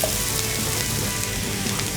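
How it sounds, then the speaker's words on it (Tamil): Onions sautéing in a hot pan until golden brown for Hyderabadi egg khagina, a dense, continuous close-up sizzle and crackle with no talking. "இந்த ஆனியன் வந்து நம்ம கோல்டன் ப்ரௌனாக வதக்கணும்."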